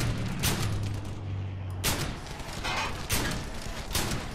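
Gunfire from the World War II shooter game Brothers in Arms: Hell's Highway, with several sharp, loud shots and booming reports over a constant dense battle din of distant fire.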